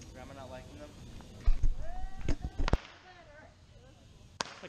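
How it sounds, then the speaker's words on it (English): Fourth of July fireworks go off in a burst of sharp bangs and pops close by, with people talking and reacting throughout. "It's like a Michael Bay explosion."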